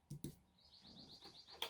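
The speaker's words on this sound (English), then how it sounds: "You hear the birds outside?" A faint, rapid series of high bird chirps trills briefly in the background, with a few soft clicks and taps nearby.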